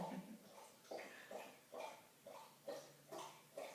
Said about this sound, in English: Relaxing to the sounds of my dog drinking water.